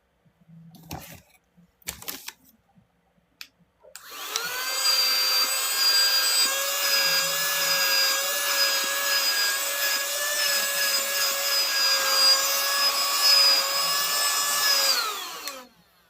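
A few faint clicks and taps, then a small handheld vacuum device starts and hums steadily with a high-pitched whine for about twelve seconds before stopping.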